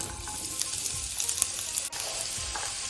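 Chopped onion sizzles in hot oil in a pan, a loud, steady crackling hiss heard up close with a few soft stirring knocks and no talking.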